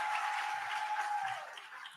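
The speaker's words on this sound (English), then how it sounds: "Let's give them another round of applause." Applause for award recipients at a gala watch party, a steady wash of clapping that fades slightly toward the end, with a faint tone running underneath.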